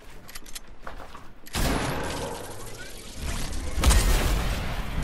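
Fortnite gunfire in a bursting volley of rapid shots and booms that swells loud midway and again near the end, dense and close with no clear talking.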